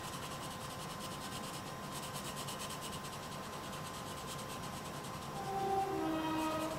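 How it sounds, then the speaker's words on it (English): A distant train rumbles by quietly with a steady clattering roar, a faint horn-like tone rising near the end. "Oh, it's a train."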